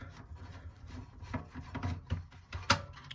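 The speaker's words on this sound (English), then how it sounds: "We could just continue using this Phillips screwdriver right here for the rest of the screws as well." A Phillips screwdriver turning out screws from an NES console, giving soft rasping, grinding scrapes in short bursts, close and fairly quiet, with one sharper click near the end.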